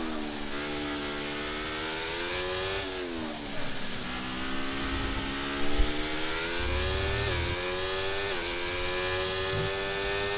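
A Haas Formula race car on a lap at Silverstone in a racing game, its high engine whine climbing steadily through the gears with brief dips at each shift, loud and continuous with no talk.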